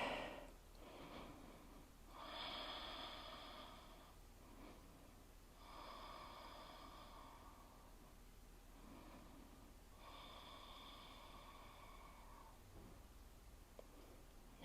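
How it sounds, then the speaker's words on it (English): Slow, deep breaths during yoga practice, each long inhale or exhale swelling softly and fading, repeating about every four seconds, close and quiet with no talk over them. "Breathe deep."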